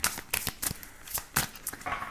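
A deck of cards being shuffled for a tarot-style reading, rapid riffling bursts and soft slaps repeating in quick succession, close and moderately loud.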